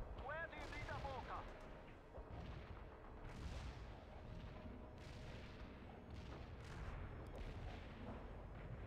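Gunfire and artillery in the real-time strategy battle game World in Conflict, a dense run of sharp shots and heavy booming blasts at irregular intervals, loud and close, continuing without letup.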